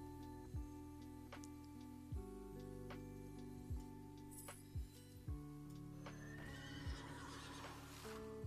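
A pony in a video game neighs with a short whinny, faint and distant, over steady tonal game music, with scattered soft clicks and no voices.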